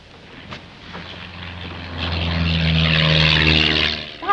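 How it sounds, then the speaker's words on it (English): A low-flying propeller plane drones overhead at night near an island, its engine hum rising steadily from a distance to a loud, close pass and then cutting off, with no voices. "plane's flying low."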